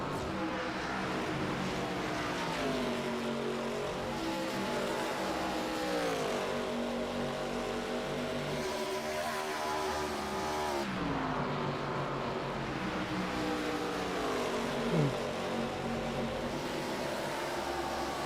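Pro Cup Series stock cars, including a Ford Mustang, race at speed around the Dover track, engines roaring continuously with pitch sweeps as cars run in the draft, a loud sustained multi-car drone throughout.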